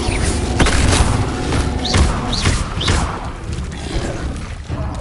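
Fiery spell blasts in the Hogwarts Legacy video game, a run of loud booming whooshes and thuds in dense combat, several bursts close together over a rumbling background.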